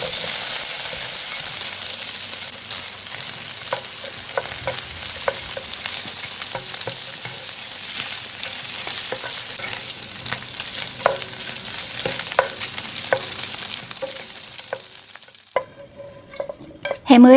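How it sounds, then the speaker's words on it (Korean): Diced Spam sizzles in an oiled pan, crackling steadily as a utensil stirs and scrapes it at intervals, close and clear, before the frying fades out near the end. "햄을 노릇노릇하게 볶았습니다."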